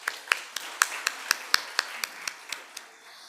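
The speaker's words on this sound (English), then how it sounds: "So a big round of applause for sir." Sparse, rhythmic clapping at a university orientation, a dozen or so evenly spaced distinct claps from a small number of hands, close and crisp, tapering off at the end.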